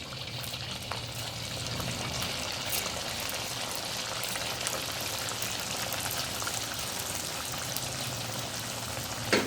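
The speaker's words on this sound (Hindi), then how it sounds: "अब इसमें हम अपने मोमोज़ फ्राई करेंगे।" Momos fry in hot ghee in a kadhai with a soft, constant crackling sizzle that holds steady throughout, heard alone without speech.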